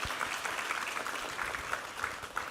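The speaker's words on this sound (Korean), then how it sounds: "우리 하나님께 감사와 영광의 박수 올려드리겠습니다." Applause from a church congregation during a Sunday worship service, steady dense clapping filling the sanctuary throughout, with no voices over it.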